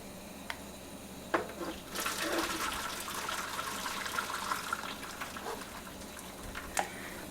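Boiling water poured into a pan as a water bath around a lemon raspberry cheesecake in an oven, a close, steady gushing splash that starts after a few clinks and continues evenly to the end.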